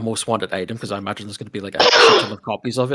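A single sharp sneeze bursts out in the middle of conversation, loud and close, with people talking before and after it.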